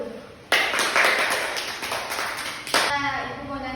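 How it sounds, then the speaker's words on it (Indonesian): A classroom of students bursts into brisk hand clapping during a teaching practice lesson, a dense burst of claps that tapers off and then swells again briefly near the end, close and fairly loud. "Tepuk tangan dulu."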